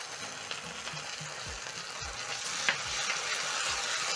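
Sweet chili sauce sizzles in a hot pan with capsicum, a steady broadband frying hiss with soft stirring scrapes and low thumps, close and alone without talk.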